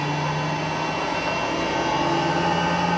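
The turbine engine of a seaplane spools up during start, a continuous loud whine and roar with steady tonal hum that builds slightly, with no one talking.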